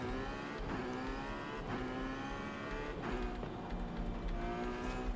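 Ferrari California T fitted with a 6-liter V12 in Forza Horizon 5, roaring loudly and continuously with rising and falling revs through gear shifts, no voices over it.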